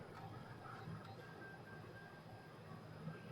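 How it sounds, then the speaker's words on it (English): SeeMeCNC hang printer running loudly in a basement, a steady mechanical drone with whining motor tones rising and falling, continuous and close throughout. "The hang printer, it is really loud."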